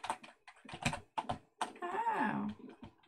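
Computer keyboard keys clack in quick bursts and short runs during an Undertale speedrun, close and fairly loud, with a brief voiced sound partway through.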